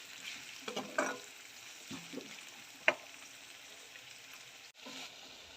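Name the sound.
onions and curry leaves sautéing in a pan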